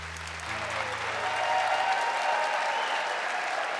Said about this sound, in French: Vraiment, je suis tout ému de voir autant de gens qui applaudissent